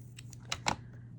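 Scissors trimming paper for a craft tag, several quick close snips in a short burst, the last cut loudest, over a faint steady background hum.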